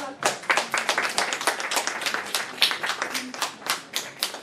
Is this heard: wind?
no